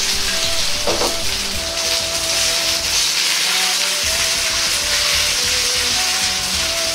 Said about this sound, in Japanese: 鍋を回しながら鶏肉を滑らせて焼いていきます